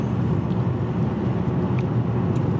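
Toyota Avensis engine note and road rumble inside the cabin as the car holds 80 km/h on cruise control, a steady low drone throughout with a few faint clicks.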